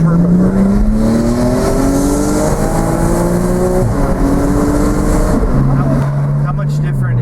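A Porsche 987.2 Spyder with a PDK gearbox and turbo conversion drives hard in a ride-along, its engine note climbing through rising harmonics with quick gear changes, loud and close from inside the cabin.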